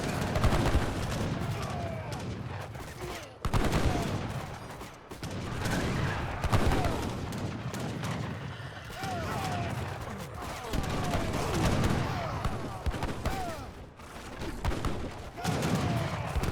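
Battle din from Age of Empires 3 in a multiplayer arena match, with musket volleys and a field gun firing across a continuous, dense wash of in-game combat noise, loud and steady throughout.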